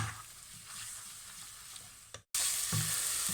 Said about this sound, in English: So let's get these frying off.